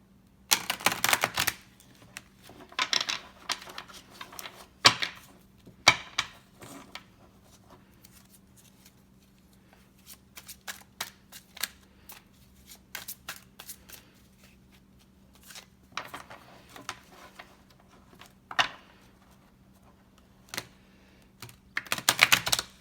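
Slightly stiff playing cards being shuffled in short irregular bursts of riffling and flicking, with quiet pauses between, close and fairly soft.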